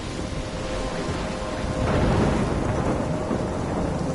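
A thunderstorm rages in the game Life Is Strange, with steady rain and a deep rumble of thunder swelling near the middle, loud and close with no talk.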